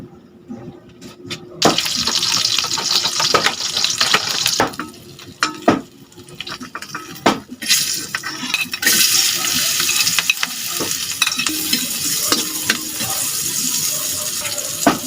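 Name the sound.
frying in cooking oil in a pan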